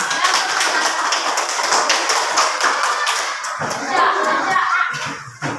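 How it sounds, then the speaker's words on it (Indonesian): A classroom of children claps for a classmate, loud, dense patting that runs for several seconds under some chatter before tapering off. "Oke, tepuk tangan untuk Aisyah."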